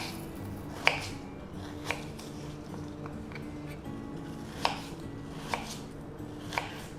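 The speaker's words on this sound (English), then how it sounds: "And then the apples need slicing." Apples being sliced with a knife on a board for an apple and sultana crumble, a few sharp separate cuts spaced a second or so apart over a quiet low hum, close and fairly faint.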